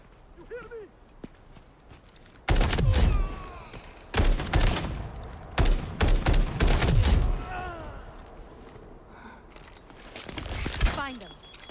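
Bursts of loud gunfire from a video game ring out in several volleys, with quieter gaps and faint game sounds between them.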